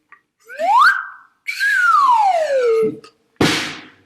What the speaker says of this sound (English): we also get to play cool sound effects like this, the slide whistle